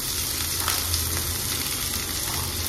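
Tomatoes and capsicum fry in a thick gravy base, giving a steady, dense close-up sizzle with faint stirring scrapes and no voices.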